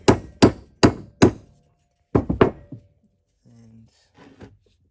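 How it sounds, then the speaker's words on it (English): Metal hammer blows drive a punch to extract a destroyed grease seal from the spindle of a Kubota TG1860 mower. Four sharp, evenly spaced strikes are followed by a quick triple burst, then faint scraping. "I'm trying to extract it with a punch."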